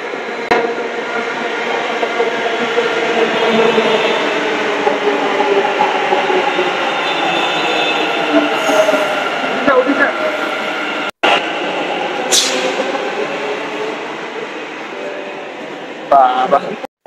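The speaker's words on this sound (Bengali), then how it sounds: "কত সুন্দর লাগে মেট্রো ট্রেন আয়া ঢুকতেছে" A Mysore city metro train rumbles and whines steadily as it pulls into the station, loud and close, with people talking nearby.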